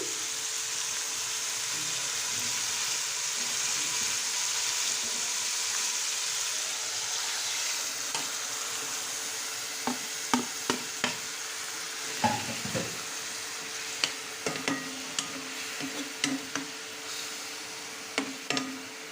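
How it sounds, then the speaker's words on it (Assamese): Browned onions fry in a pan with a steady close sizzle, then masala goes in and spoon stirs and scrapes click and clatter against the pan over the continuing hiss, no talking. "পিঁয়াজটো যিহেতু ৰঙাকৈ ভাজি হোৱা আছে, এতিয়া মই তাত দি দিম মছলাখিনি।"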